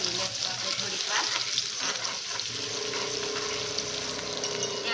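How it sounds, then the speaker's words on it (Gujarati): Chopped onions sizzle and fry steadily in hot oil in a pan for Gujarati dal fry, a continuous close crackling hiss with occasional stirring, no voices. "ડુંગળીને સારી એવી સાતળી લેશું આપણે થોડીક વાર."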